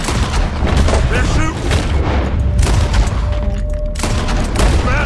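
Dense, loud gunfire and explosions from a Red Dead Redemption 2 shootout at a building, continuous bursts throughout with a voice talking over the action.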